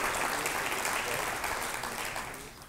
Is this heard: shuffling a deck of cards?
no